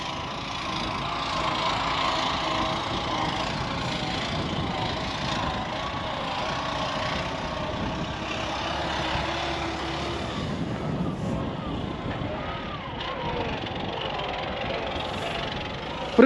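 A heavy truck engine drones steadily and continuously during a snowstorm beet harvest, a low rumbling hum that holds at a constant level without pause.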